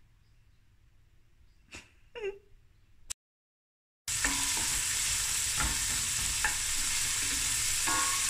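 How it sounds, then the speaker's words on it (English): Onions fry in hot oil in a pot: after a quiet stretch with a few faint knocks and a brief silence, a loud, dense sizzle starts and holds steady, with occasional stirring clicks. "fry the onions until nicely translucent and golden"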